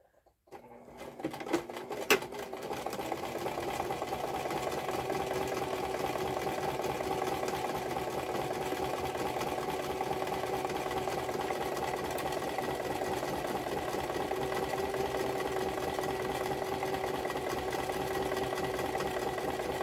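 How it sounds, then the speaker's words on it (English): Sewing machine running steadily as it stitches along the edge of a fabric purse made from scrap material, a continuous close mechanical whir holding at an even level for nearly the whole stretch after a brief start. "Let's sew this real quick."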